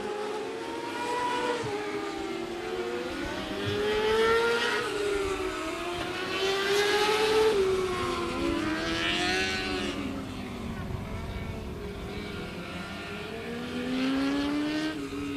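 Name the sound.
600cc non-wing micro sprint race cars racing on track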